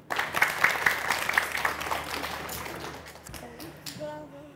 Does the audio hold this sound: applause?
yes